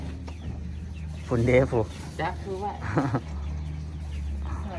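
Two large Muscovy ducks kept by a rural Thai couple give short nasal calls, close by, mixed with people talking.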